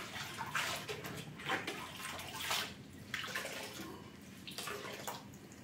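Water runs and splashes as a cleaning cloth is soaked during cleaning of a household shrine room, a steady wet rush with several louder surges, close by and with no talk.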